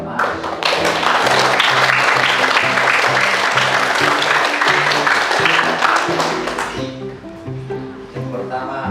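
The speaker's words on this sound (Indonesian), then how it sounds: "Mari kita berikan aplaus kepada" Applause from an audience at a school vocational skills assessment, steady loud clapping filling most of the clip, fading near the end, with music underneath.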